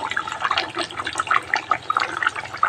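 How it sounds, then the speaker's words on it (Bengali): Thin fish curry with sweet potato is poured out, making a close, soft liquid splash and trickle with small gurgling drips throughout. "এই দেখো বন্ধুরা, মাছের ঝোলটা ঢেলে নিলাম।"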